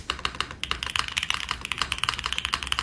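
Rapid, crisp keystrokes clatter from a Keychron B6 Pro mechanical keyboard, a dense close-up run of sharp clicks and clacks with brief pauses and no speech.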